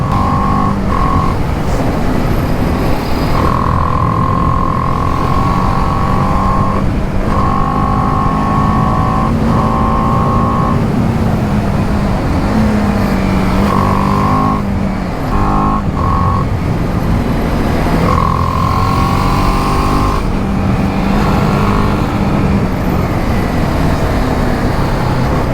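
A BMW G310R motorcycle sweeps through the bends of the Kodaikanal ghat road, its single-cylinder engine droning steadily and swelling in repeated revving pitch rises and falls as the rider works through the corners, with wind noise throughout.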